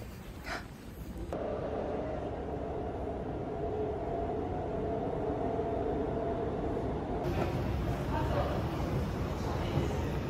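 Steady low rumble of a subway train ride on a metro line, a continuous rolling hum with a brief shift in tone partway through, heard from inside the car without any clear talk.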